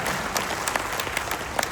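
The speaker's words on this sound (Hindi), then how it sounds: "तो प्लीज उनके लिए बहुत जोरदार ताली" An audience breaks into steady applause for the two co-pilots at a brand event, a dense wash of many hands with a few sharper claps standing out, continuing without pause.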